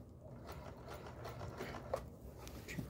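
A Singer 431G sewing machine driven by a low-voltage motor stitches through denim, giving a steady, fairly quiet mechanical whir with rapid rhythmic needle ticks throughout and no voices.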